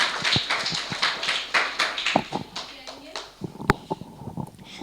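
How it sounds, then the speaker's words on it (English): A school audience claps for a young student at an English Day event, with brisk, uneven hand claps and taps rising and falling close by, while voices murmur underneath. "Clap for Ishan भाई जी।"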